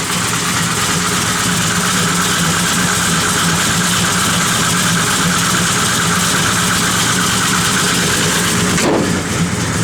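A 1972 Chevrolet Chevelle convertible idles with a loud, steady, deep engine rumble that holds throughout, with a brief thump near the end.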